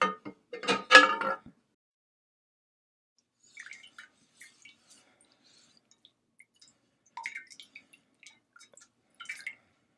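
Water splashes briefly onto a glass cutting board, followed by sparse, faint drips and small wet squishing sounds scattered through otherwise quiet moments.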